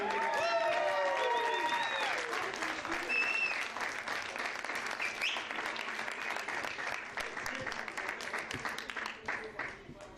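A large crowd at a boxing event applauds loudly and continuously, with cheers and whistles early on, the clapping gradually thinning toward the end.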